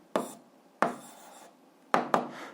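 Pen or pencil strokes on paper while writing down a math answer, four short scratchy bursts with pauses between, close and quiet, no talk.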